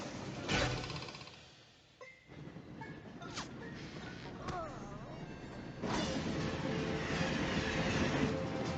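A moving train in a cartoon episode, heard as a continuous rumbling roll with clattering and a few sharp squeals, briefly quieter early on and louder again toward the end, with a voice speaking at times over it.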